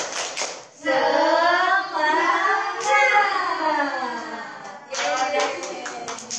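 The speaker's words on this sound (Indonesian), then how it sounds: "Coba kita tepuk semangat lagi ya, sekali lagi ya." Rhythmic group clapping in a 'tepuk semangat' clap chant at an online Christian kids' gathering, sharp clap bursts at the start and end framing a loud, drawn-out chanted call, with voices shouting along.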